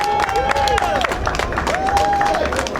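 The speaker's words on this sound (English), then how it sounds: "Let's give a round of applause as well to Mayor de Blasio." Crowd applause with clapping and scattered cheers at an outdoor ride blessing event, steady and fairly loud throughout with a high whistle-like tone drifting over the clapping.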